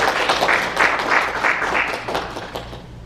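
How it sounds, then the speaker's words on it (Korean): Audience applause at a Korean Christian business association's installation and New Year ceremony, a steady wash of clapping from a crowd that holds for about two seconds and then thins out toward the end. "박수 부탁드리겠습니다."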